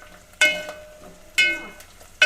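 Whole unpeeled garlic cloves drop into a hot pan of fried onion for a spicy sev tamatar curry, giving three sharp bursts of sizzling a second apart, each fading quickly, with no talk.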